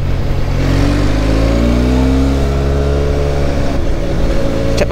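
A Benelli TRK502 motorcycle engine revs loud and close on a road toward a mountain pass, pitch climbing and falling through a few throttle blips.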